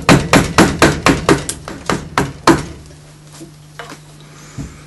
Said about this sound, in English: the ordinary gouges and just level into it.